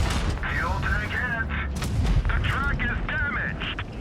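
Tank cannon fire in World of Tanks Blitz while playing the STRV 81, with booming shots and mechanical clanks during a close battle, mixed with a voice talking over the game throughout.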